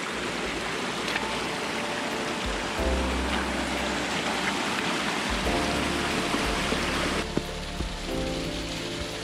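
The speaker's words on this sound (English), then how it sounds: "this late in the season we'll be crossing this creek" Creek water flows steadily beside a hiking trail near Lake Annette late in the season, a dense, continuous rushing wash close by with no voices.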